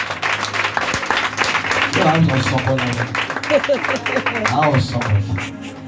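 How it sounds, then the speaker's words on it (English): A congregation claps hands for the prophet at a Sunday church service, a steady dense patter of many hands running throughout, mixed with voices and singing. "Let us clap hands for prophet."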